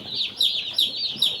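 Day-old chicks being unboxed at a farm give rapid high peeping chirps, several quick overlapping calls repeating close by.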